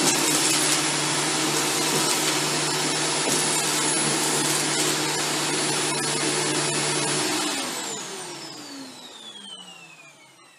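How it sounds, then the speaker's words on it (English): Shark Stratos upright vacuum cleaner running over Fruit Loops on low pile carpet, a steady loud whine and roar close by that winds down near the end. "we put Fruit Loops on this low pile carpet and ran the vacuum over them"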